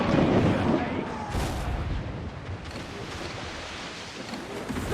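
Ship cannons fire in a naval battle in Assassin's Creed 4 Black Flag, a loud broadband roar of booms blending with crashing sea and wind that stays dense and continuous throughout.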